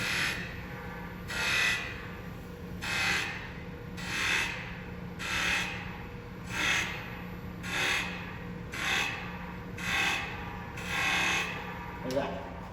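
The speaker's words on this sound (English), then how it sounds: "Then I can take the skew chisel and I can create those nice little grooves that you saw" A skew chisel cuts evenly spaced grooves into wood spinning on a lathe, giving about nine regular rasping bursts, each roughly a second long, over a steady motor hum.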